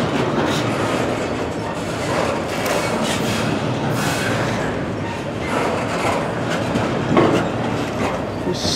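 A long CSX Q130 freight train rolls steadily past near a slow-speed switch, its wheels clattering in a continuous loud rumble with rhythmic clicks and occasional squeals throughout.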